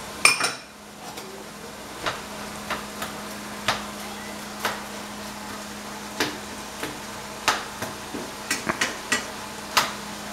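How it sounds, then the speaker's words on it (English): Sliced onions are stirred into a pan with pork, giving irregular clinks and scrapes of a utensil against the pan over a steady low sizzle, close and fairly quiet. "Add our sliced onions to the mix."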